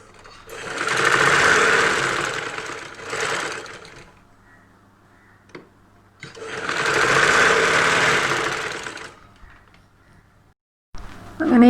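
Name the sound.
sewing machine stitching saree blouse shoulder seam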